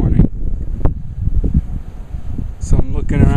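Low, blustery rumble of wind buffeting the microphone on Mission Peak in the morning, with brief bursts of speech near the end.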